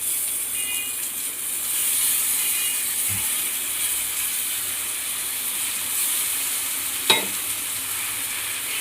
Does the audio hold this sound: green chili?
yes